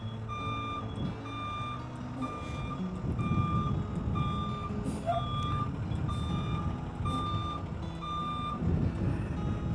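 A school bus backing in during a pre-trip training drill sounds a steady, evenly spaced reversing beep over a low diesel idle rumble, the beeps repeating clearly throughout with no speech.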